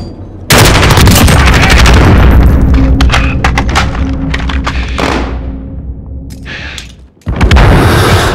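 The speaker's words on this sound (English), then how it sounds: "Grenade out!" A grenade blast in Call of Duty: Modern Warfare hits with a loud close boom, mixed with rattling gunfire that fades over several seconds, then a second sharp burst cuts in.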